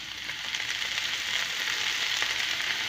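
Oyster mushrooms sizzle steadily in a hot pan with fried onion, a continuous crackling fry with no voices.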